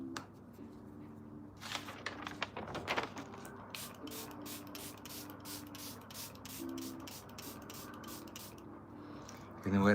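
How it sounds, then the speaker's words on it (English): Repeated short hissing bursts from a hand spray bottle mist setting spray onto a face during a glam makeup session, a rapid series of pumps in the latter half, fairly faint, with quiet talking underneath. "Now I can spray it with my good spray."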